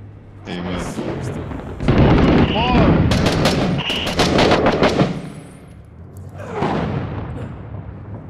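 Gunfire and mortar blasts in Six Days in Fallujah, a Fallujah urban combat game: dense bursts of shots and heavy booms crowd the first five seconds, easing off, then another loud cluster of blasts near the end, with voices mixed in.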